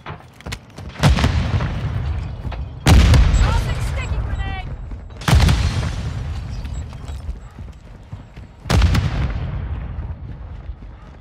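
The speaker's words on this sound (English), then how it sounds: "Throwing grenade!" Heavy booming blasts in MW2 DMZ during a police station firefight, four loud, close detonations spaced a few seconds apart with rumbling tails and soldier voice lines between.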